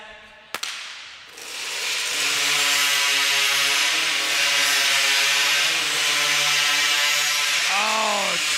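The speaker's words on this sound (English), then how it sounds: "Synchronized sawing from both of these guys." Two timbersports competitors at a championship work a large crosscut hand saw through a wood log in unison, a steady, loud rasping drone of strokes running for several seconds after a brief sharp knock at the start.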